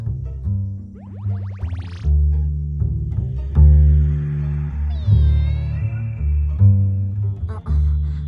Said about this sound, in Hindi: ये तो एक बिल्ली के साथ खेल रही है।